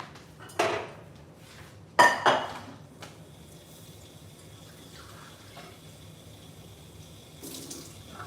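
Tap water running briefly into a measuring cup at a kitchen sink, measured out for cooking rice; short splashing bursts with clinks of dishes, then quieter background.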